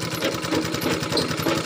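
A sewing machine runs continuously, stitching a blouse made from an old saree, its needle chattering in a fast, steady rhythm at close range with no talk.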